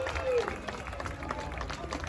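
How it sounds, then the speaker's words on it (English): An audience at a Renaissance festival owl show, featuring a European eagle owl, breaks into scattered applause and crowd noise, the claps fairly close and mixed with voices. "Let's give him a big, giant round of applause."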